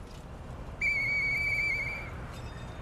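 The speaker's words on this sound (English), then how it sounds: "Hey, that sound... Is that you, Murphy? I know that whistle." In the video game Lies of P, a clear, sustained single-tone whistle sounds for about a second over a quiet ambient background, followed by a faint brief echo.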